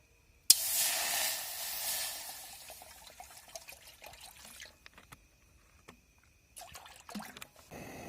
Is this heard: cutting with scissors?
no